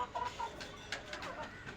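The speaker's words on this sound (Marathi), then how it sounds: "सगळ्या ॲक्टिव्ह कोंबड्या आहे एकदम" Free-ranging hens kept on a house rooftop cluck in short scattered calls with a few brief higher squawks, fairly faint over a soft background hiss.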